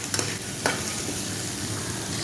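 Dried anchovies (dilis) sautéing in a hot pan, a steady close sizzle with a few light scrapes from stirring near the start, no talking.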